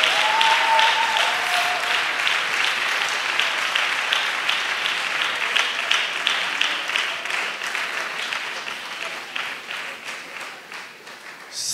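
An audience at a national missionaries' retreat applauds steadily for about eleven seconds, a dense wash of clapping that slowly fades toward the end.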